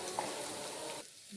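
Onion, curry leaves and garlic fry in oil for a fish curry, giving a soft, steady sizzle with stirring that cuts off abruptly near the end, faint and close.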